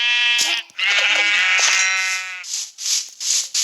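Sheep in Minecraft bleat repeatedly at close range, a run of loud, wavering calls that overlap one another and break up near the end into shorter bursts.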